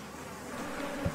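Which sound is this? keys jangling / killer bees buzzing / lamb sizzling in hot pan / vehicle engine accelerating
killer bees buzzing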